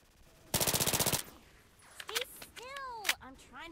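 A rapid burst of automatic gunfire, about a dozen evenly spaced shots in under a second, followed by sharp scattered pops and whooshing sweeps during an attack in a shooting game.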